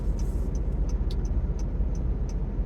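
A car drives steadily with a low, even road rumble inside the cabin, overlaid by a soft regular ticking like a turn signal.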